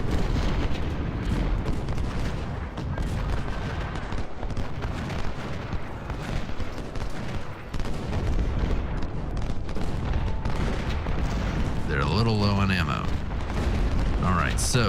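Continuous rumbling artillery and massed rifle fire from the Civil War strategy game Ultimate General set at Gettysburg, a dense steady roar of booms and crackling shots, with someone speaking over it near the end.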